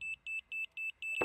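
Electronic beeping from a level measuring tool on a building site, five evenly spaced short high-pitched beeps at a steady rhythm, clear and alone.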